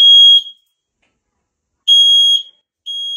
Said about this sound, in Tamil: வீட்டில் வந்து ஃபயர் அலாரம் அடிச்சிடும்.